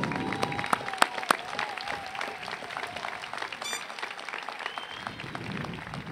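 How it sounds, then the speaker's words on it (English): Steady applause from a large crowd at a high school graduation ceremony, dense clapping throughout with a few louder claps near the start and faint voices underneath. "how about a round of applause for your outstanding families?"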